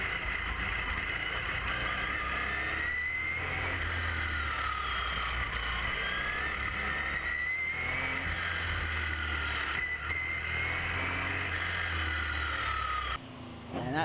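A 1979 Jaguar XJS race car engine howls continuously during a hill climb, its high revving tone rising and falling through gear changes and corners, heard close and sustained without talk until a brief cut at the end.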